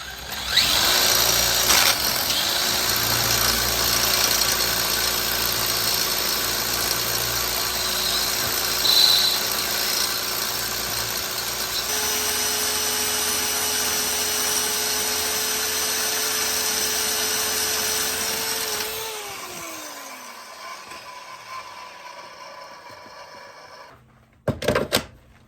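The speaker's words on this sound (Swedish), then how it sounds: "Så vi testar att polera upp det lite grann." A power tool whines steadily while polishing a generator belt pulley on a Gehl 4600, loud and sustained with a slight pitch shift midway, then winding down near the end before a few brief clunks.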